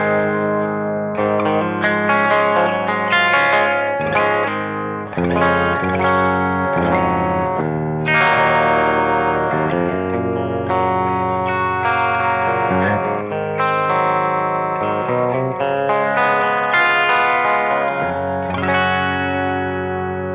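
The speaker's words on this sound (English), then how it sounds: "So we're going to start with a clean sound" A clean electric guitar through a bridge humbucker pickup plays chords and single notes continuously, bright and sustained with a touch of reverb, alone without any talking.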